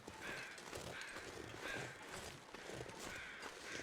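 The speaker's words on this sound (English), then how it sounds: "That's definitely weather change crows." Crows cawing in a video game, repeated calls spread across the clip at moderate distance, signalling a coming weather change over a steady ambient background.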